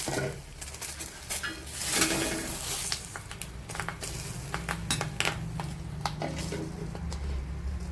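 Prawns cooking in a pan after the lid comes off and they are turned over, giving steady sizzling and frying with scrapes and clinks of a utensil against the pan, close and continuous.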